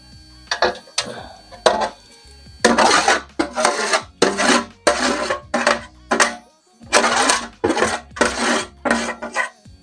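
Drippings being scraped from a roasting pan into chicken broth, heard as repeated rough scraping strokes in bursts with short pauses, close and fairly loud, with no talking.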